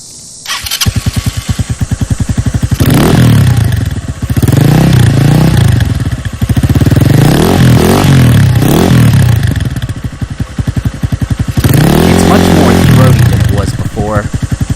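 A Lifan KP Mini motorcycle engine with an aftermarket exhaust baffle fitted starts and revs repeatedly, loud and close, rising and falling in pitch with a deep, throaty rumble between bursts.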